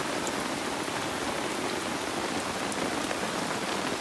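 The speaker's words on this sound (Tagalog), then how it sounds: "Dahil talagang ang lakas ng ulan." Heavy rain pours steadily at a riverside campsite, a dense unbroken hiss of drops drumming on a surface, loud and close with no pauses.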